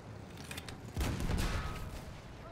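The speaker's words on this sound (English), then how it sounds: "Tank shooting from F." A tank cannon fires in Battlefield 1 amid battlefield noise, one heavy booming blast about a second in, rolling out into a sustained rumbling tail over scattered distant gunfire.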